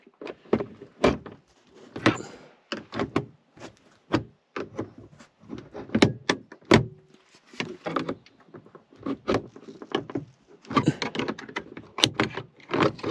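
Prying out the interior light cover of a Ford Fiesta MK6, a steady run of sharp plastic clicks, snaps and scrapes at close range, irregular and busy, with no talking.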